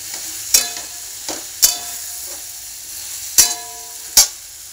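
Eggplant sautéing in a spice masala in a pan for khar vanga, with a low sizzle broken by four sharp scraping stirs at uneven intervals, close by and with no talking.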